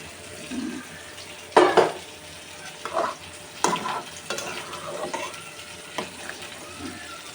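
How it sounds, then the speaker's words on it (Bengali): Hot water poured over sautéed broad beans in a hot pan, a sudden hiss and sizzle in bursts, with utensil scrapes between them and no talking. "এই যে আমার সিমগুলো কষানো হয়ে গেছে এবার আমি এই যে গরম পানি এই গরম পানি দিয়ে দেব"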